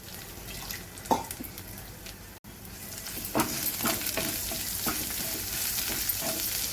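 Garlic paste dropped into hot tempering oil with green chillies and curry leaves sizzles and crackles steadily, with several louder bursts and stirring scrapes throughout.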